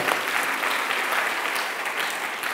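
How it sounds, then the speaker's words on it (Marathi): A church congregation applauds a pastor's helpers with brisk, dense clapping that is moderately loud and steady for a couple of seconds. "आपण त्यांच्यासाठी पण टाळ्या वाजवूयात"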